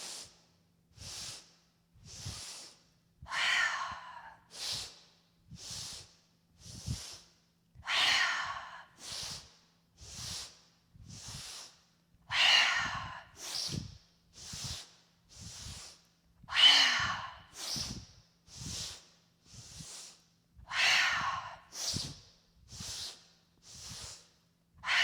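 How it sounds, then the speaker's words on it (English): Deep, slow yoga breathing, a steady series of close, audible inhales and long airy exhales repeating in an even rhythm, with some breaths louder and rougher than others. "Full breath in together. Full exhale."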